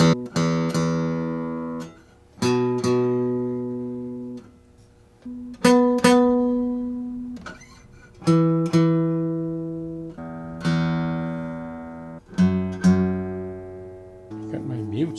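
A 1963 Gibson J-45 acoustic guitar, freshly fitted with a new bridge, a solid wood bridge plate, and a compensated nut and saddle, is struck about seven times. Each chord or note rings out bright and full, then fades before the next strike.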